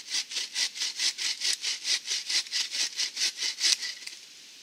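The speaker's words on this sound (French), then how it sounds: "on passe la main dans le cadre et on continue de scier" A frame saw cuts through a piece of wood in bushcraft work with about sixteen even back-and-forth rasping strokes, close and regular, ending as the blade stops.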